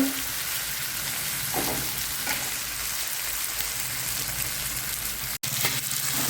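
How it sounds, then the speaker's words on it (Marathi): Ground masala paste with coriander stems roasting in a pan for a peas and paneer curry, a soft continuous sizzle close by with a couple of faint stirring knocks. "थोडीशी कोथंबीरच्या काड्या टाकणारे आहे भाजायला त्याही भाजून घ्यायचं वाटण छान भाजून घ्यायचं"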